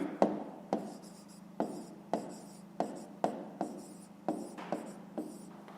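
A pen writes an answer in a maths exercise, with sharp regular taps and short scratching strokes repeating about every half second, close and clear against a quiet room.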